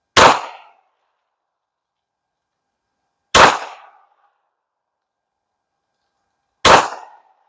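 Three sharp, loud pistol shots from a Canik Rival, spaced about three seconds apart, firing Winchester Ranger, Winchester Silver Tip and Hornady Critical Defense rounds in turn, each crack decaying quickly into silence.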